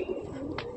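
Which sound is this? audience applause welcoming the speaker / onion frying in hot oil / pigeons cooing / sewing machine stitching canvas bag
pigeons cooing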